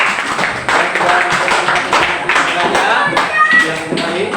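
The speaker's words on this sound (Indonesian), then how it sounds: "Kita beri tepuk tangan untuk kelompok 2." A classroom group claps for a group's presentation, a scattered burst of applause from students that runs for several seconds at moderate loudness, with a few voices over it.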